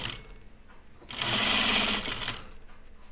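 A sewing machine stitches a seam on a blouse in one loud, close burst of rapid needle chatter lasting about a second, with quieter room sound and brief handling before and after.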